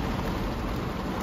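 Heavy rain pours during a storm in Balneário Camboriú, a dense, unbroken roar of downpour filling the whole moment with no voices.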